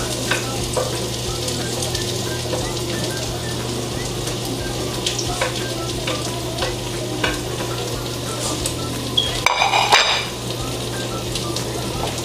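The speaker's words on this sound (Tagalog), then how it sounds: "haluin lang po natin yung ating hotdog" Sliced hotdog and onion fry in a pan, with a steady close sizzle and scraping stirring throughout and a brief clattering burst near the end.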